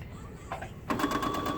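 A sewing machine stitches a welder cap band, starting with a couple of short stitch bursts before settling into a quick, steady mechanical whirring run, fairly quiet and close.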